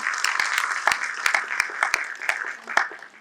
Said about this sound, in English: Let's give a round of applause to Ms. Sathya Saran